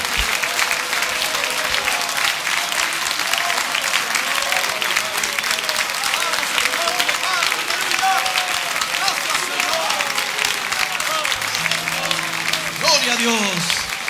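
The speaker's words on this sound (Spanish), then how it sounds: "Demos un buen aplauso para el Señor." A church congregation claps together during a Sunday morning service, a sustained and even wash of applause that continues throughout, with some voices and a musical tone coming up near the end.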